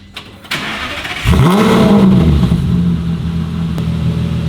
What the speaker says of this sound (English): now onto the amazing cold start